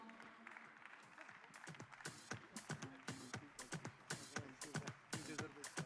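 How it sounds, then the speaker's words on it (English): Conference audience at an awards night applauding the team: a voice comes first, then clapping builds into a dense, rhythmic burst of many hands that grows louder toward the end. "please give a round of applause to the whole team who has done a fabulous"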